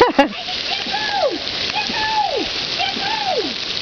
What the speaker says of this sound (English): It's freaking hail.